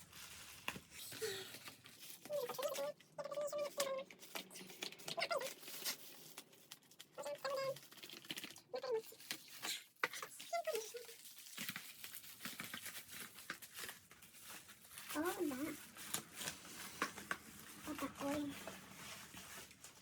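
Packaging being opened up close in a beauty-product mystery box, with crinkling and tearing of wrap and paper in irregular bursts while someone talks over it.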